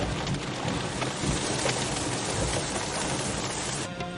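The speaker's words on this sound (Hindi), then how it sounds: "बड़ी तेज बरसात है" Heavy rain pours down in a dense, steady hiss that stays loud throughout, with no voices over it.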